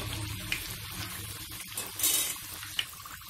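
Chekkalu rice crackers fry in hot oil in a pan, a soft continuous bubbling sizzle broken by a few brief sharp clicks and louder bursts.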